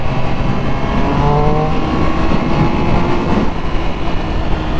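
A Triumph Speed Triple 1200 RS motorcycle rides along a dual carriageway, its engine a loud, close, continuous drone with shifting tonal hum and steady road and wind roar throughout.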